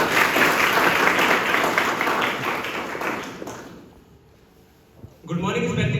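An audience claps loudly to welcome guests at a nursing students' presentation on foetal development. The dense applause fades out after a few seconds, and a voice starts up near the end.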